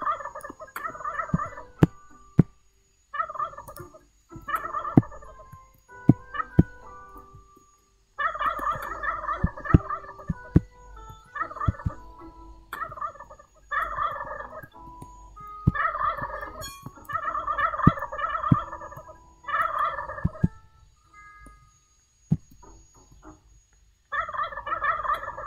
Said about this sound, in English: I'm wrangling turkeys